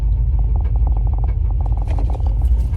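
A car engine with a collapsed lifter idles with a steady low rumble and a rapid, regular metallic ticking on top, close and loud.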